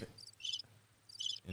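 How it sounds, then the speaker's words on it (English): Crickets chirping in short, bright trilled bursts, two clear pulses separated by a quiet gap, faint and close with no voices. "Crickets."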